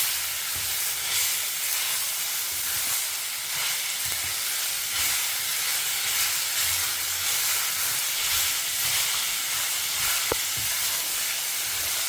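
Squeezed cucumber dropped into lentils frying in hot coconut oil gives a steady hiss and sizzle that carries on for about twelve seconds without a break, with no voices over it.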